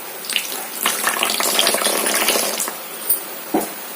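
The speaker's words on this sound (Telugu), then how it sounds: "కొంచెం వాటర్ అయితే పోసుకుందాం" Water pours in a continuous splashing stream into a bowl of payasam mixture, running close and loud for a few seconds before a couple of short final splashes.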